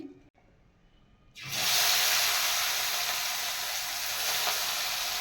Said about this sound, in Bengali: এবার আমি কড়াই দিয়ে দিচ্ছি